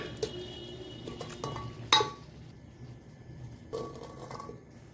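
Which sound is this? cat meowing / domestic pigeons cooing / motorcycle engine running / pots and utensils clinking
pots and utensils clinking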